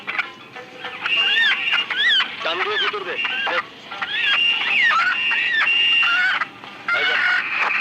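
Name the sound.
chickens clucking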